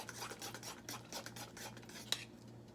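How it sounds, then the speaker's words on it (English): A utensil stirring thick banana walnut waffle batter in a bowl, with soft rhythmic scraping and rubbing strokes, close and fairly quiet, and one sharp clink near the end. "So I'm going to mix that up."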